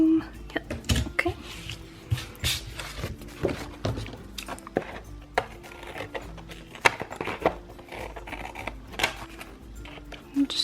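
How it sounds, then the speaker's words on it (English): Scissors snip off small bits of paper with a light adhesive backing, giving irregular sharp cuts and rustles close by. Quiet talking runs in between the cuts. "I'm just trimming these extra bits off right now"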